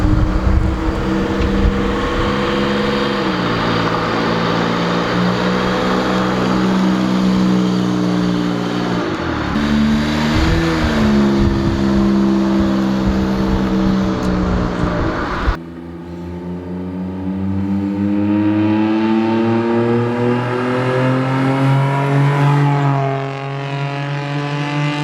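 Exhaust of a JDM JA4 Honda Today kei city car revving with its exhaust valve open and then closed, a loud rasping engine note sweeping up and down in pitch, turning noticeably quieter and smoother after the switch.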